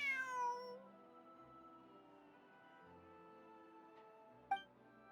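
A cat meows in the Genshin Impact video game, one long drawn-out meow up close, then a quiet stretch and a short faint mew near the end.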